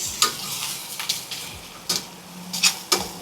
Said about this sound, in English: So I want to cook these onions for about 2 or so minutes.